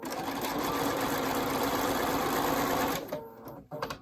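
A sewing machine runs steadily, stitching a 3/8 inch seam allowance on a welted zipper pocket. It hums close and loud for about three seconds, then stops, followed by a few soft handling noises.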